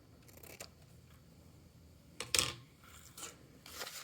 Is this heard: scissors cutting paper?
yes